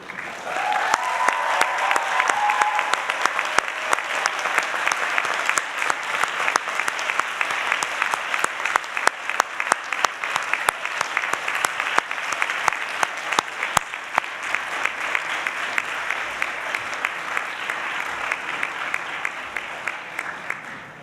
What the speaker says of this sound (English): I would ask all master's candidates to rise and applaud those friends and family members who have helped them to be here today.